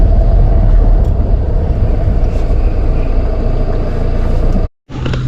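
A car's engine and tyre rumble drone steadily and loudly as it pulls into a parking area at the Shabari Dham temple site, then cut out abruptly near the end.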